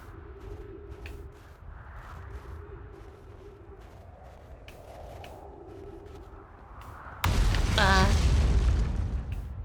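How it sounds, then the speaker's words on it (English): Meteors striking a planet in the video game Outer Wilds: low distant rumbles and faint hum give way to a sudden loud, deep explosive boom that roars and slowly fades. "Shit's definitely exploding."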